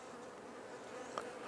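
Honey bees buzz steadily around an opened hive during honey sampling, a continuous, fairly faint drone with no talking.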